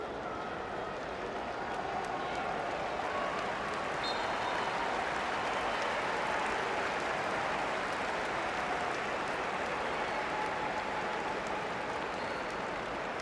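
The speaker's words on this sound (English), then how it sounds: "He's getting an impressive round of applause from the crowd." Stadium crowd at an international football friendly between Singapore and Argentina applauding a substituted player, a steady broad wash of clapping and crowd noise throughout with distant commentary-like voices faintly underneath.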